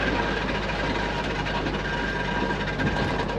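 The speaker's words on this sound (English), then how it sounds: "So the exhaust is literally on the floor." While a car drives through heavy rain, a loud, continuous low rumble and scraping roar comes from its exhaust dragging on the road surface.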